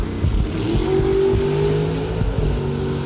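Drag race cars, among them a 1967 Camaro, roar off the line together at a bracket racing event, a loud sustained engine drone with rising revs and no talking.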